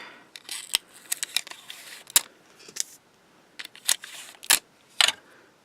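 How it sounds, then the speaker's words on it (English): Tape being pulled off a roll and torn for beadwork, heard as a run of sharp, close crackling rips and snaps in irregular bursts, with a short quiet pause in the middle. "And I also have a little bit of tape here."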